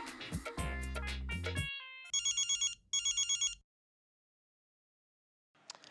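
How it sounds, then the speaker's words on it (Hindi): A telephone rings in a home during a Hindi comedy scene: two bursts of bright electronic trilling pulses follow a short musical sting, then silence, with a faint start of the next sound at the end. "अय्यर, लंदन से सुमित्रा काकीमा का फोन है।"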